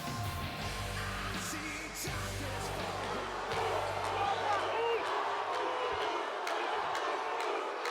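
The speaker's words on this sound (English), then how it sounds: "Sounds like the crowd is on the side of the Uso." A wrestling arena crowd cheers and murmurs as a steady roar under a commentator's voice, rising a little toward the end, with scattered yells and thuds from the ring.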